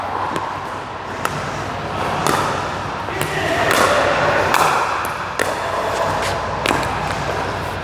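Pickleball paddles striking the ball during a rally, a series of sharp, crisp pops spaced irregularly about a second apart, some near and some farther off, over a murmur of court background noise.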